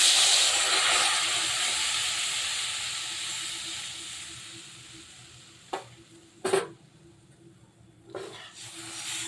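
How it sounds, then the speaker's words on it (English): A steady hiss and bubbling from fish curry with brinjal boiling in a pan, close up, fading somewhat, with a few sharp clatters near the end. "Let it boil."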